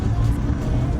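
Yugo Florida car labouring up a steep hill, a steady low engine drone filling the whole stretch at close range with no voices.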